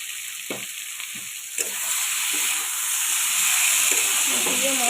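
River snails drop into hot spiced oil in a pan, setting off a steady loud sizzle and hiss that builds and continues, with a few soft stirring knocks early on.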